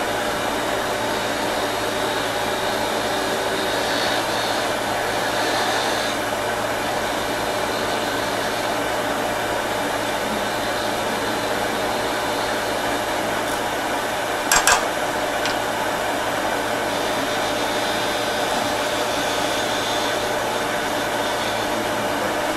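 A wood lathe turns a spindle for a finial ornament while a cove is shaped, giving a steady, loud motor and cutting drone held throughout, with a brief sharp scrape near the middle.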